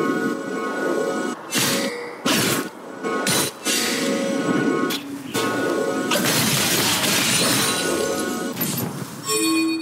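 A turret being destroyed in League of Legends, a dense crashing and shattering burst layered with game effects, loud and continuous, with a few short breaks before a brighter sustained roar in the final seconds.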